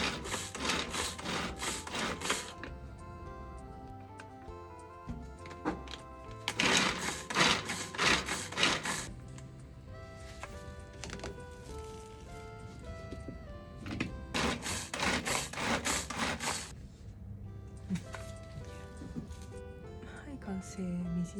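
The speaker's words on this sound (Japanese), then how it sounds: "ピーマン、玉ねぎ、人参は全部ブンブンチョッパーでみじん切りに" Pull-cord Bunbun chopper mincing bell pepper, onion and carrot: bursts of rapid whirring and chopping come in three main pulls, loud and close, with quieter rattling between them and background music underneath.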